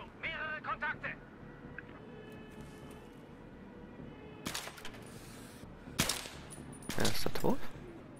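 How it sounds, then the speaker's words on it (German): Gunfire in the video game Battlefield 3: a few sharp shots and short bursts ring out at a distance amid quiet, with a louder sustained burst near the end. "Ich habe einen Schuss gehört. Achtung, mehrere Kontakte."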